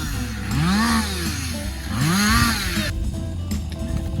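A chainsaw cuts through tree branches outdoors. The engine revs up and down twice in swelling whines and then settles to a rougher idle, loud and close.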